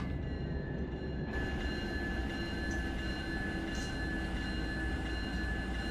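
Diesel locomotive in the Run 8 train simulator game, a steady low rumbling drone with faint high tonal whine, continuous and even throughout with no talk.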